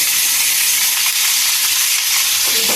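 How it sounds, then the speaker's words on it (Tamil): Indian borage (omavalli) leaves fry in hot oil in a pan, giving a loud, continuous sizzle with a bright, steady hiss and no talking. "வாணலியில் எண்ணெய் வச்சுருக்கேன். இந்த ஓமவள்ளி கீரையை அதில் போடணும்."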